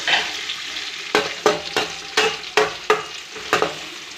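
Chopped onions sizzle steadily in a hot pan while a spatula stirs them in about eight regular, close scraping strokes over the continuous frying hiss, with no voices.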